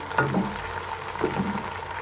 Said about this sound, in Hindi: अब हम करेंगे इनको फ्राई